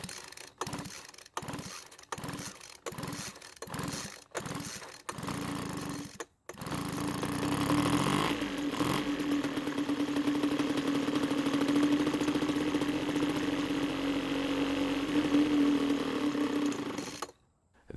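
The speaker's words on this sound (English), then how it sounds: "That had to be the longest test run I've ever had, which could mean there was already fuel inside the carb, and that's why the engine ran as long as it did." A two-stroke leaf blower engine, under repair for starting but not staying running, first fires in a few short bursts that cut out. It then runs steadily on its own, droning loud and close for about ten seconds before stopping.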